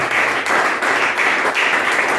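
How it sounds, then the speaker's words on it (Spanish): Congregation applauding in a church service, a loud, dense burst of clapping with a few rhythmic surges, close and continuous throughout. "Fuerte el aplauso para el Señor."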